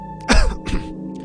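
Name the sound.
village chief clearing his throat in radio drama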